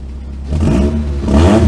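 Toyota Pre Runner truck engine, in need of a valve adjustment, idles low and then rises into a loud, close rev with a rough mechanical edge, no talking over it.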